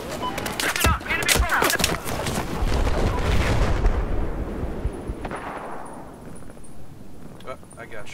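Rapid gunfire and booming explosions in the Battlefield 4 video game on the Lost Islands map, loud and dense for about four seconds, then fading to scattered distant shots.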